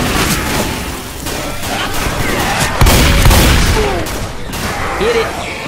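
Gunfire rings out during co-op play in Left 4 Dead 2, with loud shots and a heavy boom standing out against a dense, noisy game soundscape, while players talk over the action.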